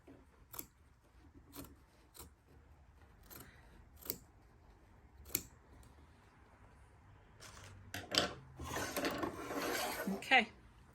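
Several short, crisp scissor snips trim stray fibres close to a satin stitch, spaced apart in a quiet room, followed by a longer burst of rustling and rubbing of fabric near the end.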